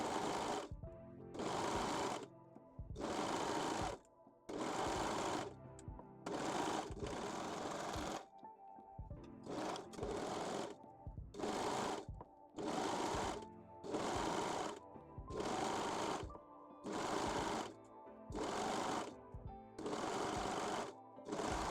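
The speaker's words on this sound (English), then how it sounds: "sew both side seams using a serger or zigzag stitch." A serger stitching the side seams of a bra-into-bodysuit lingerie piece, running in fast humming bursts of one to two seconds separated by short pauses, close and steady with no talk.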